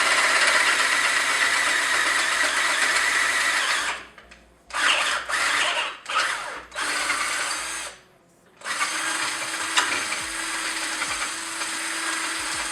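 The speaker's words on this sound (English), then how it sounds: "then we'll just start drilling this out and working through it" Power drill boring out a fitting clamped in a vise, running loud and steady with two short pauses where the motor stops and restarts before drilling resumes continuously.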